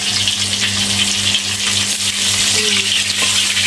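Steady, loud sizzling of salted fish frying in hot oil in a pan, a continuous crackling hiss with a low hum underneath.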